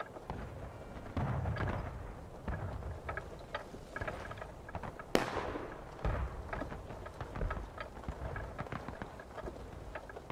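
In the Civil War game War of Rights, one cannon blast cracks out sharply amid a dense battlefield din of distant gunfire and rumbling, with lower booms scattered through the whole stretch.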